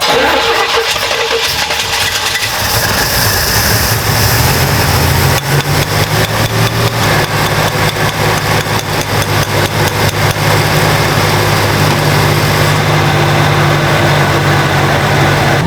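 A 1967 Jeepster engine runs smoothly at a steady idle for the whole stretch. The drone is loud, close and even, heard from inside the vehicle.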